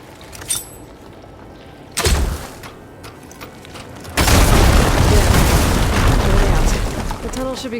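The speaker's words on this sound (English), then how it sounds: "Hitting those blaze barrels with fire ammo should do the trick." Blaze barrels blown up with fire ammo in Horizon Forbidden West burst into a loud sustained explosive roar that follows a couple of short thumps, then crackles and rumbles at close range.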